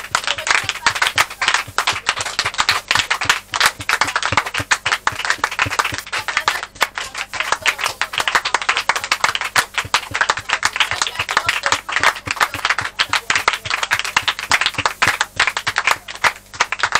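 A church congregation claps loudly and continuously in acclamation during a worship service, with sharp rapid claps packed close together and voices mixed in under a steady low hum throughout.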